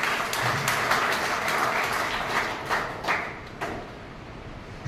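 Loud, sustained applause from a large crowd for Ram Vilas Sharma, Haryana education minister, at a Scouts and Guides event, dense clapping that thins out toward the end.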